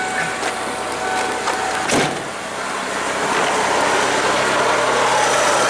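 A 1992 Ford Tempo GL with its engine idling, a steady close-up mechanical hum running alone throughout, with a brief clunk near the two-second mark.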